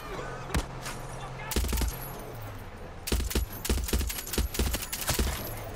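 Bursts of gunfire from Far Cry 6 gameplay: sharp cracks in scattered single shots, then a dense run of rapid shots near the end, loud and close over a steady background hum.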